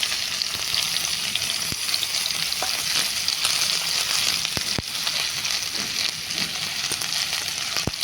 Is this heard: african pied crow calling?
no